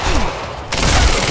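Gunfire in the shooter game Quantum Break during a library chase, a short, loud burst of rapid shots with a sharp break midway.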